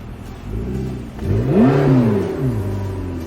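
A McLaren 650S sports car engine revs up sharply, its pitch climbing then falling back, loud and close with no voices.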